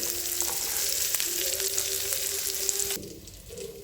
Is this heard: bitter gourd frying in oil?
yes